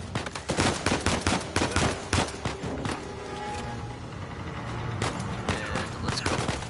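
Rapid gunfire from a shootout in the video game Uncharted 4, with bursts of automatic shots and scattered single cracks repeating throughout, dense and loud at first, easing briefly in the middle, then picking up again.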